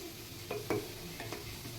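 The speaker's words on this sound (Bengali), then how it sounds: "এই যে আলু ভাজা অল্প একটু ভাজবো বললাম ছেলে মেয়ের জন্য" Potatoes fry in a pan, a faint, steady sizzle with a few quick scrapes of a spatula stirring, heard up close and alone.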